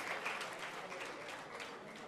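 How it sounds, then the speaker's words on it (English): An audience at a banknote and coinage launch event applauds a choir, a steady wash of clapping from a room full of people, fairly distant and even throughout. "Can we give the Bon Choir another resounding applause, please?"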